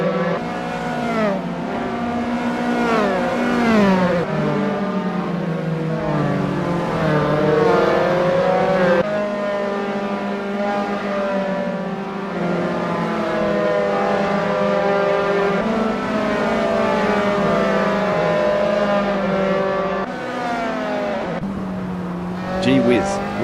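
Dallara F312 open-wheel race car engines howl at high revs in an Assetto Corsa club race at Blackwood, a loud, continuous, layered whine that climbs and falls with gear shifts for the whole stretch.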